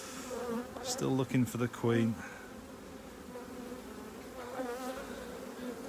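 Honey bees hum softly and continuously in a recently merged colony, a low buzzing bed under a few quiet spoken words during a hive inspection.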